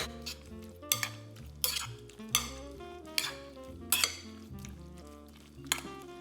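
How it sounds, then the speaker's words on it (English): Spoon clinking against a bowl while calamari is stirred with black pepper, sharp metallic taps arriving in an irregular rhythm every second or so over a quiet background. "And a good deal of black pepper. Let's give that a stir."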